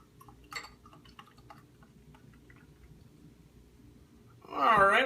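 Quiet faint clicks and ticks, then a sudden gurgling splash of kit-brewed beer pouring into a glass near the end.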